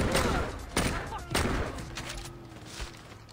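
Heavy gunfire from a powerful gun in the Saints Row 2 video game, several loud booming shots fired at uneven intervals with echoing tails, close and dominant.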